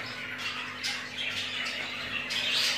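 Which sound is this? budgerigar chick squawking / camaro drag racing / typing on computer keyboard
budgerigar chick squawking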